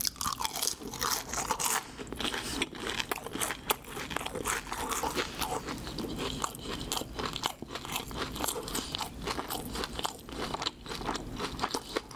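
Close, loud crunching and chewing of a crispy fried cheese ball with corn inside, with steady repeated bites and crackles continuing throughout and no talking.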